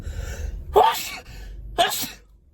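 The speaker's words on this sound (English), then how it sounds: "I gotta sneeze" Two sharp sneezes, a second apart, close and loud over a quiet low background hum.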